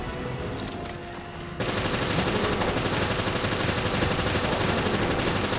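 Dense, continuous automatic gunfire from the action video game Resident Evil Revelations, a sparser stretch giving way after about a second and a half to a loud, unbroken barrage that runs to the end without speech.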